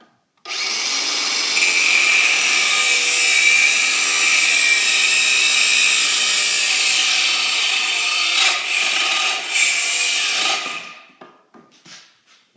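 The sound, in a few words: power tool cutting off a seized exhaust bolt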